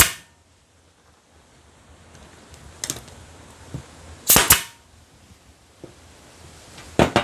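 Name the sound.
nail gun fastening flatpack beehive parts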